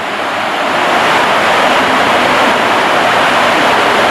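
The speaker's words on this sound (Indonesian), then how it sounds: "Ini hujannya luar biasa, ya." Dense, steady roar of heavy rain pouring down, loud and continuous with a broad hiss throughout and no voices.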